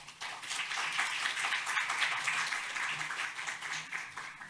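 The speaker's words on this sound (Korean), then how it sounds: "큰 박수로 환영 부탁드립니다" Audience applause welcomes a KAIST computer science professor to the stage before a lecture on generative AI in education. The clapping is steady, fairly soft and sustained throughout, with no talk over it.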